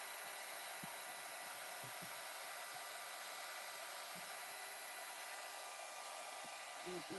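A hair dryer blows steadily and close on a mixed media journal page, a loud continuous airy roar that holds for the whole stretch with only faint knocks and shuffles beneath it.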